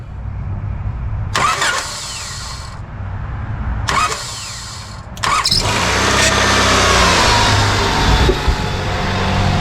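A 1996 Honda Accord engine cranks in two short bursts that fail to catch, then fires on the third try and settles into a loud, steady idle, recorded up close with no voices.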